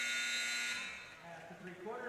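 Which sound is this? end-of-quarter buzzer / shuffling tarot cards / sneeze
end-of-quarter buzzer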